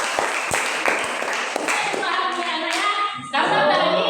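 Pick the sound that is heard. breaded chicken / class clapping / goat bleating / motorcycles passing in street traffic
class clapping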